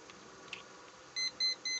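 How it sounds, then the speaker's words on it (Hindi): An HTC-1 humidity and temperature meter gives three short electronic buzzer beeps in quick succession, clear and close, over a faint background hiss. "ये बज़र देगा"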